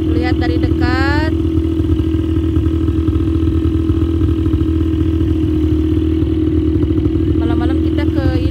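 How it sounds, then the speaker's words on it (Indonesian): A motorcycle ride at night on the way to a desert, with a loud, steady engine drone under the rider, plus brief high whining tones near the start and end, and people talking over it. "Malam-malam kita ke ini naik motor."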